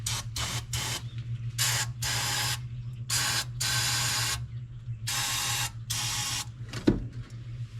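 Repeated hissing bursts of brake cleaner sprayed onto the engine of a 1985 Dodge pickup, about a dozen short and long blasts in an irregular rhythm over a steady low hum, with a brief clank near the end.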